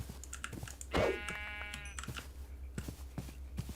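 A baby sheep in TerraFirmaCraft, a Minecraft mod, gives one clear, wavering bleat lasting about a second, heard close, while soft keyboard clicks tap away around it.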